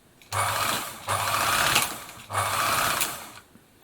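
A Singer 760 sewing machine runs in three loud bursts, each spinning up, whirring steadily and winding down, with a slight rattle as it slows between runs and no voices.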